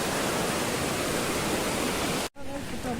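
Heavy rainwater rushes loudly down a stepped path at Junagadh during a cloudburst, a dense, continuous roar that cuts out abruptly near the end, followed briefly by quieter flowing water.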